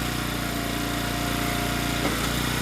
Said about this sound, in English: So that may have been loud over the motor